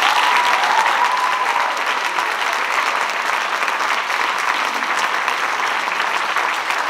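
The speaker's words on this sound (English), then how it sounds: "how about another round of applause for them?" Concert audience applauding a beginning school percussion ensemble, a steady, full, continuous wash of clapping from a large crowd that fills the room for several seconds.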